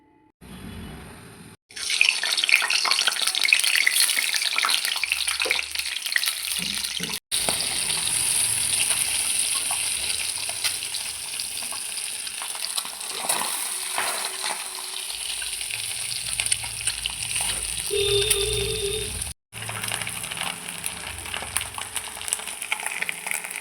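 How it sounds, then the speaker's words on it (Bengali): Halved eggs fry in hot oil with chili powder, turmeric and salt, a loud, continuous crackling sizzle up close, broken by brief stirring scrapes and two sharp momentary gaps, with no one speaking. "লঙ্কা গুঁড়ো, হলুদ গুঁড়ো আর নুন দিয়ে ভালো করে ফ্রাই করে নেব।"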